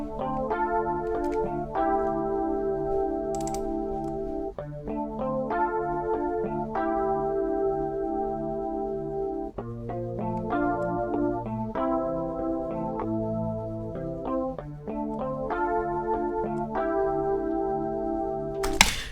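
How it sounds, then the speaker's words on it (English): Strat-style electric guitar from the Evolution Strat virtual instrument, Sandcastles preset with Deep Chorus at half mix, playing sustained arpeggiated chords in a steady, gently pulsing pattern, shimmering and wide, alone with no voice. "And for this one, I used the Evolution Strat plugin."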